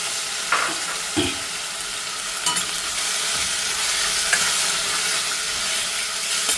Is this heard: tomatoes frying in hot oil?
yes